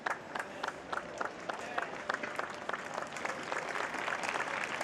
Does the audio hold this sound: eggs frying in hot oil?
no